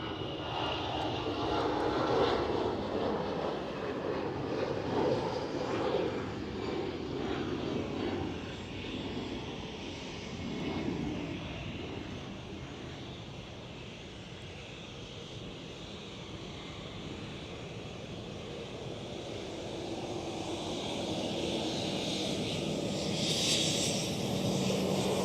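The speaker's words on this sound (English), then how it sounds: "EasyJet for the takeoff." EasyJet jet airliner taking off at Schiphol airport, a broad roaring engine rush that swells and holds at moderate distance, with wind buffeting the microphone and brief faint voices.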